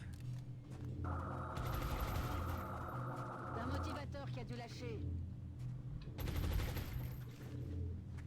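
Rapid bursts of gunfire from the strategy video game XCOM Long War, a loud steady volley with sharp crackling shots and a sustained tone, heavy game effects and music-like layers underneath throughout.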